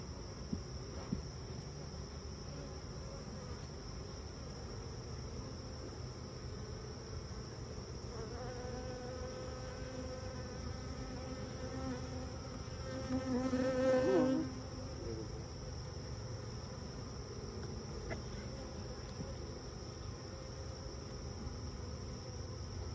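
Buzzing of newly installed Russian honey bee packages in a hive, a steady insect drone that holds throughout and swells briefly louder near the middle, with no talk.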